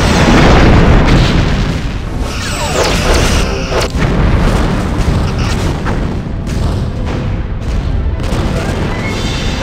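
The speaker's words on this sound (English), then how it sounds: "simulated enemy ship has been destroyed" A starship blows up in Star Trek Bridge Commander, a loud, sustained rumbling boom with crackling bursts that lasts the whole stretch and never fades.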